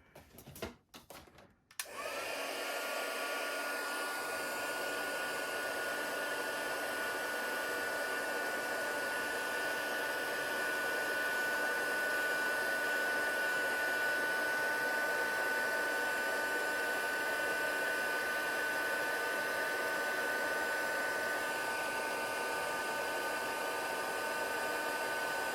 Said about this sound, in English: and I'll take my heat tool.